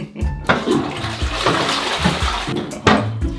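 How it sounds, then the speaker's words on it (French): Toilet flushing up close, a loud rushing surge of water with gurgling swirls and splashes that rise and fall over a few seconds. "j'ai oublié de tirer la chasse"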